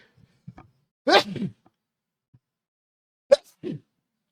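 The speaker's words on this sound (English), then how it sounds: "I just had to sneeze right there at that moment in time" A single human sneeze bursts out at close range in an otherwise quiet room, preceded by a few small breathy sounds and followed by a brief sharp tap and a short exhale.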